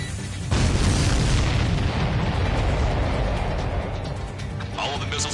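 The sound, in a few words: missiles being destroyed, explosions in video game Ace Combat 7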